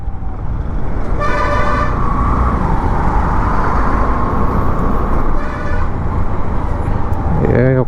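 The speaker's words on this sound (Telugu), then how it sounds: "వాడు వినట్లేడు, అప్పటి నుంచి కొడుతూనే ఉన్నాడు హారన్లు." A lorry's horn honks on a busy highway in two long blasts and a shorter one at the end, over a constant loud roar of engine and road traffic.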